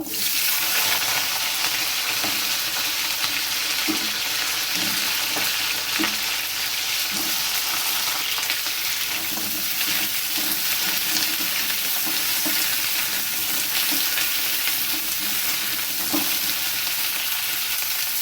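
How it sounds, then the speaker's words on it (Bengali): Cut cauliflower frying in hot oil in a pan, a loud, dense and unbroken sizzle with soft, regular stirring knocks underneath throughout. "এবার আমি দিয়ে দেবো কেটে রাখা ফুলকপি এগুলোকে আমি ভেজে নেব"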